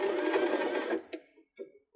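A Baby Lock BL9 sewing machine stitches through cork fabric for an appliqué, running in a dense, steady whir for about a second before trailing off into a few short, separate mechanical clicks and taps.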